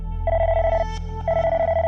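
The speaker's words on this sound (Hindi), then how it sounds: "सुपर स्पीडो, उन्हें कॉल करो।" A telephone rings out as a call is placed, two long electronic trilling bursts split by a short pause, loud and close with no voices.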